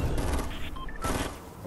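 Rapid gunfire in the Fortnite video game, a dense, loud burst of shots and booms filling the short moment with no clear pauses.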